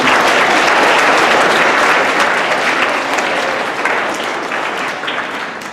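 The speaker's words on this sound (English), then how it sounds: "If we can give her a round of applause" An audience at a seventh grade school assembly breaks into loud, dense applause, a sustained wash of many hands clapping at once that fades slightly toward the end.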